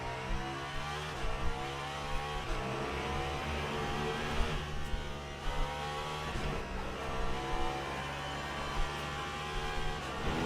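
A hypercar race engine runs a lap in Le Mans Ultimate, with a continuous revving drone that rises and falls through gear changes over about ten seconds. It sits at moderate level and no one speaks.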